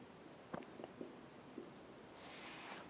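Chalk or marker writing on a board during a physics lecture on wave equations, a few faint short strokes and taps in a quiet room with a rising hiss toward the end.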